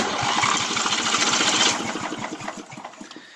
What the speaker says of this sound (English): if you push a button here, you can see the see the starter spin over